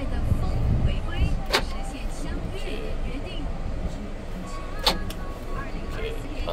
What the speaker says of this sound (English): This one is to lock your car, lock the car